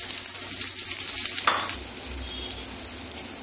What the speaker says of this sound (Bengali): ভেজে নেবো বেগুনগুলো, সুন্দর করে লাল লাল করে ভেজে তুলে দেবো।